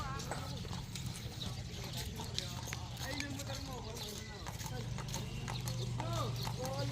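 Repeated hoofbeats of a horse in training near a starting gate clip-clop in an uneven rhythm, fairly faint, under nearby talking and background crowd noise.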